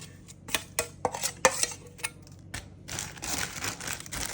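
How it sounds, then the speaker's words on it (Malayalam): Masala is mixed in a metal pot, giving sharp clinks and scrapes of a utensil against the rim in an irregular rhythm, followed by a denser, quieter rustle of stirring, close and with no talk. "മസാല മിക്സിങ് ആയിപ്പോതാ"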